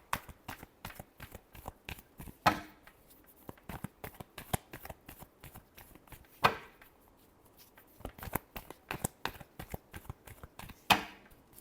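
Tarot cards being shuffled in a series of crisp, rapid riffles and flutters, with a few louder snaps as the deck is squared, close and alone without talk.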